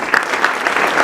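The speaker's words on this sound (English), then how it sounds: "So quick clap again for all the sponsors" Luncheon audience applauding its sponsors, a dense, steady wash of clapping hands that holds at an even loudness throughout, without pauses and with no voices rising above it.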